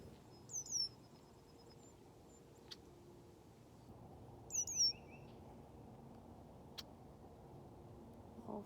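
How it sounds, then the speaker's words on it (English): A bird near a Michigan pond gives two short, bright bursts of high chirps several seconds apart, with a single sharp note between them, over a quiet outdoor background. "It's a very loud bird."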